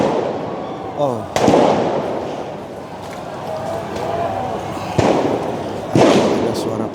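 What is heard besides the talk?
firecrackers exploding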